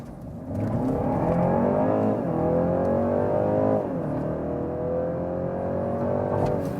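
BMW 330e plug-in hybrid sedan launching hard under launch control, combustion engine and electric drive combined: a loud, steady engine roar rising in pitch through gears, with brief dips at shifts, close and continuous without talk.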